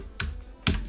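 Two distinct keystrokes on a computer keyboard during coding, sharp close clicks about half a second apart over a low steady background, with no talking.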